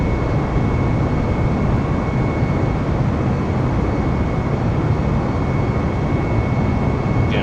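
An airliner in Microsoft Flight Simulator accelerating down the Seattle runway for takeoff, a loud, steady, broadband engine roar with a faint high tone, unbroken throughout and no talking.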